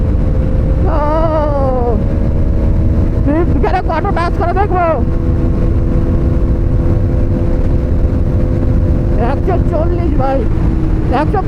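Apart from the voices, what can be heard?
Hero Xtreme 250R motorcycle riding in fifth gear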